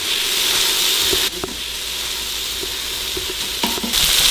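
Frozen ground meat sautés in a pan with a continuous close sizzle, while a Good Cook meat chopper breaks up the chunks with scattered scraping clicks and taps. The pan noise dips briefly at times and there is no talking.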